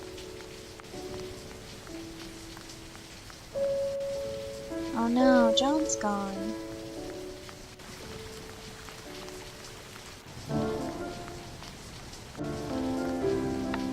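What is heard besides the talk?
rain falling in a video game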